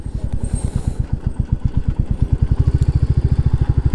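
Motorcycle engine idling close by as the bike is parked near a temple, a steady rapid low putter that grows more even and pulsing toward the end, with no talk.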